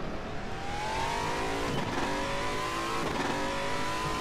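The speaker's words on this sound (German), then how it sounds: "Auch soundtechnisch jetzt hier in der Cockpit. Hört sich ganz cool an." Aquila CR1 Sports GT race car in RaceRoom heard from the cockpit, engine droning and climbing steadily in pitch under acceleration with gear changes, a continuous loud whine with no talk.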